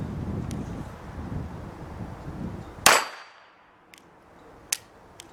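A Sig Sauer Mosquito .22LR pistol fires one sharp, loud shot at a shooting range after steady wind noise, followed by a few faint metallic clicks.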